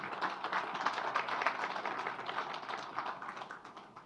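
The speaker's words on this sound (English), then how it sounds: "please give them a big round of applause" An audience at a conference session applauds the Republic of Chile as host. Steady, moderately dense clapping carries on for several seconds at a soft, even level, without speech.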